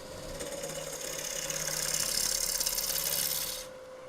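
A woodturning lathe spins as a tool cuts across the face of a wooden blank to flatten it, giving a steady rasping, scraping drone over a motor hum for several seconds before the cut stops.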